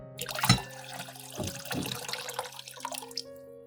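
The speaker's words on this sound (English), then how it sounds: "pour the water from the jar into a pot" Water is poured from a jar into a pot with a gurgling, splashing rush that starts strongly and then tapers into uneven trickles and drips, close and fairly quiet, with no talking.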